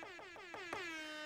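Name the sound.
air horn sound effect sample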